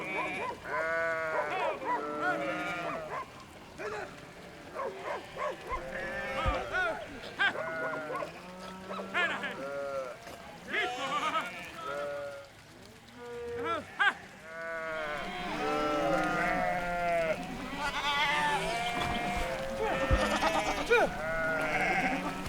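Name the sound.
flock of sheep and goats bleating while crossing mud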